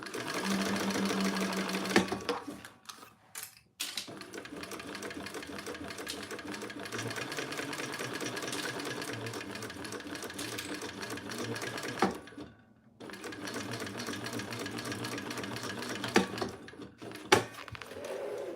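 A sewing machine stitches through leather while a bag is being made, running in steady loud bursts with short pauses near 3 and 12 seconds and a few clicks near the end.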